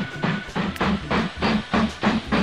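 Train in the video game Mashinky rolling along, with a rhythmic series of chugging, clattering pulses repeating at an even pace, fairly close and steady without talk.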